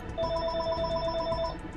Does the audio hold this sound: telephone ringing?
yes